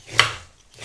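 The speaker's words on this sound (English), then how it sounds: "Just cut both ends off, and then give it a peel." A peeler scrapes once along a raw carrot, giving a single brief close scraping rasp followed by a fainter rub.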